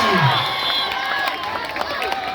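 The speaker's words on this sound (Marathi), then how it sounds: "परंतु मैदानामध्ये टाळ्यांचा कडकडाट काही थांबत नाही." Crowd noise at a village kabaddi match, steady cheering and clapping throughout with shouts rising over a continuous loud roar.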